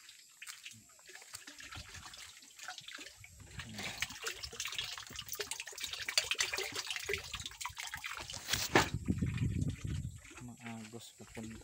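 Water flows from a tank source into a garden fish pond, a soft, steady rushing trickle heard under a man's speech throughout, growing a little louder near the end.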